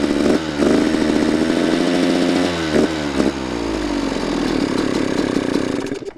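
A two-stroke dirt bike engine close by revs up and down in throaty, buzzing surges, then settles into a steady drone.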